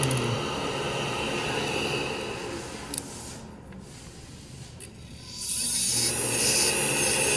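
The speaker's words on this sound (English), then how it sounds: "Don't grind too much here. This is zirconia." Zirconia dental crown being ground with a dental handpiece, a steady close abrasive hiss and rub that runs continuously, easing briefly in the middle before returning at full strength.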